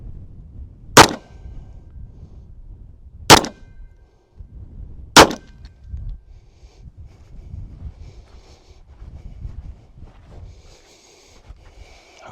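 A Tisas Stakeout 1911 pistol in 38 Super fires three 130-grain rounds outdoors at 7 yards, giving three loud, sharp reports spaced about two seconds apart over light wind noise, with quiet rustling afterward.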